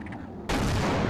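A grenade detonating in the PC shooter Half-Life, a sudden loud blast that cuts in mid-clip and holds as a dense, roaring burst over quieter game ambience.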